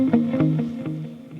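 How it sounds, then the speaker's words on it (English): An electric guitar played through an Axe-Fx with slight distortion, delay and reverb picks a few quick notes. Each note trails off into echoing repeats, close and clear. "You can hear the delay and the reverb."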